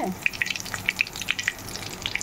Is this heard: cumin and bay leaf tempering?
yes